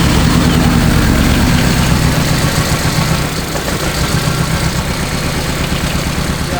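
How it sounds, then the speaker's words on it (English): A Mazda Miata engine idles with a misfire, giving a loud, constant rumble that holds steady throughout with faint unevenness in its pulse. "it's idling really well, even though it's misfiring"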